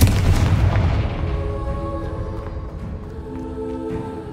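Confringo fire spell cast in the video game Hogwarts Legacy, one heavy booming blast that fades out, followed by faint crackling and tonal effects in the background.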